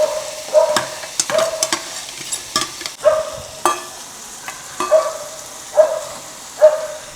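Food sizzles steadily in a pan in a home kitchen while a spoon scrapes and stirs in regular strokes, about eight close, distinct stirs over the constant frying hiss.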